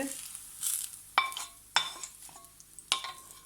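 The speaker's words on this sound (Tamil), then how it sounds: "இப்பொழுது இது கார்லிக்கும் ஒனியனும் வதங்கிவிட்டது" Garlic and onion sauté in a pan with a soft sizzle underneath. Several sharp metallic scrapes and clanks of a utensil against the pan break through it, and no one speaks.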